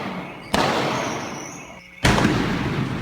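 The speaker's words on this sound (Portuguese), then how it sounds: "Moradores gravaram barulhos de tiros e explosões." Two sharp, loud blasts ring out about a second and a half apart, each followed by a rumbling echo, as gunshots and explosions are captured by residents during a nighttime bank robbery in which ATMs were blown apart.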